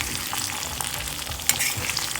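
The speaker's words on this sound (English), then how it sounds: "I'm just going to saute them for about 2 minutes or so" Green chilies and garlic sauté in a hot pan with a dense, even sizzle up close, plus a light clack from stirring near the end.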